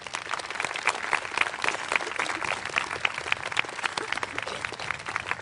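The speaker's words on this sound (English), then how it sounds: "please give a round of applause for Boxen and Xiaolei" An audience applauds Boxen and Xiaolei at a 2024 high school graduation ceremony, steady dense clapping filling the room without pause.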